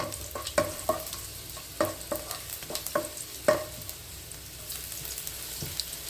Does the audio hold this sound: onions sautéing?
yes